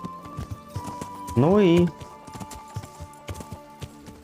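Horse hooves in the video game Kingdom Come: Deliverance clip-clop in a steady running rhythm throughout, with someone briefly speaking over the hoofbeats.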